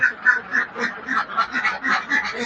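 A flock of about 200 laying ducks in a dry pen quacks in loud, rapid, overlapping bursts, with a nearly continuous chorus of calls close by.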